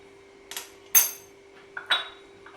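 Spoon working through kuska rice in a pot, giving four quick metallic clinks in two pairs against a quiet background, close and distinct, no voices.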